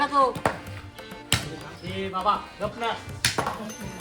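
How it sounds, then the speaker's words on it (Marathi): Mutton being chopped at a village fair in Konkan, sharp cleaver chops landing a few times amid nearby voices talking. "इकडे मटण कापायचं काम चालू आहे"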